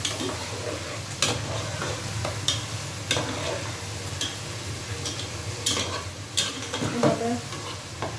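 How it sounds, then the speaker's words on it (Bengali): Small fish pieces frying in a pan for a curry, with a continuous sizzle and repeated sharp clinks and scrapes of a stirring spoon against the pan throughout, close and clear with no talking. "এখন মাছটা দিয়ে দিচ্ছি মাছের পিসগুলো ছোটো ছোটো করে নেই"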